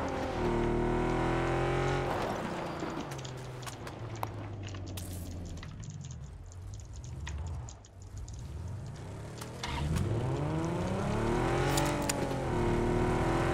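A car driven in the PUBG battle royale video game: a continuous engine drone that rises and falls through gear shifts and revving, dipping briefly before accelerating hard again, loud and steady throughout.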